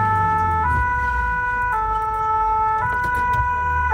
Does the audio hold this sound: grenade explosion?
no